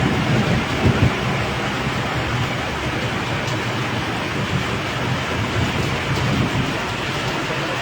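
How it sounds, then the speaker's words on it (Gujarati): Steady, loud rain pours down during a thunderstorm, a dense continuous wash of noise with low rumbling underneath and no voices. "ગાજવીજ સાથે વરસાદ છે"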